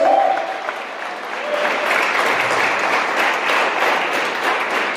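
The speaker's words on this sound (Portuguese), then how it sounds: "Dê um forte aplauso para o Senhor Jesus Cristo." A church congregation bursts into loud, sustained applause, dense clapping from many hands filling the space steadily for the whole stretch, with a brief raised voice at the very start.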